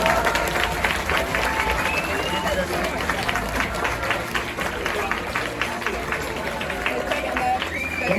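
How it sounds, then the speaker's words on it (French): A crowd claps steadily for the winners of the Carto Imaginaire 2025 mapping contest in Angers, with rhythmic, fairly close applause running throughout while voices murmur underneath. "on les applaudit très fort là"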